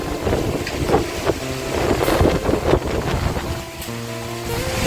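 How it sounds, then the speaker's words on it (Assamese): Strong gusts of Cyclone Remal blowing through Guwahati, a loud turbulent roar with wind buffeting the microphone, swelling and easing across several seconds, with no voices. "ইমান ডাঙৰ বতাহ দি আছে"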